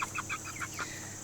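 Broiler chickens on free-range grass clucking in a quick series of short, close calls over a steady background hum.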